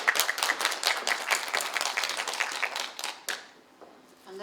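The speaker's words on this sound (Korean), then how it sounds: "박수 크게 부탁할게요." Audience applause at a volunteer-service ignite talk event in Sejong, a dense burst of many hands clapping that fades toward the end, with no speech over it.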